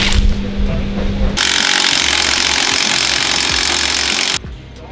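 Power tool bolting wheels onto a Toyota Hilux: a single loud, close, continuous burst lasting about three seconds, which then cuts off abruptly.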